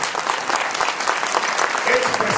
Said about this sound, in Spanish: Yo quiero que todos se pongan de pie y me le den un fuerte aplauso